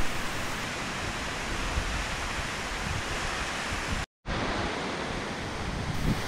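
Chagama Falls, a tiered waterfall in Hachimantai, Akita, running with high water flow, a dense steady roar of falling water, briefly cut to silence midway before resuming, no talk.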